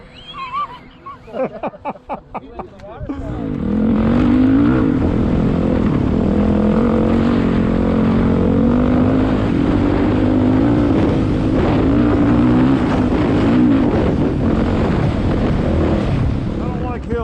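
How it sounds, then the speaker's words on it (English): Kawasaki KX dirt bike engine at a rural enduro compound near Lake Elsinore, holding a loud, sustained drone for over ten seconds after a few choppy bursts, with wind buffeting the microphone. "Man, that power on that KX is pretty impressive."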